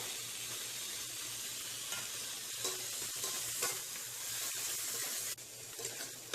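Steady sizzling of tomatoes, green chillies and spices frying in a pan, a continuous hiss with occasional stirring scrapes, close and moderately loud.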